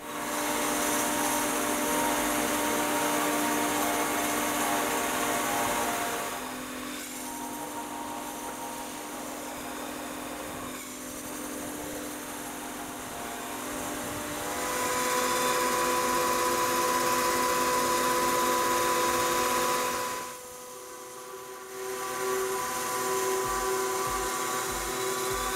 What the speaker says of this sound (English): I used a slitting saw to cut a relief around the base of the tombstone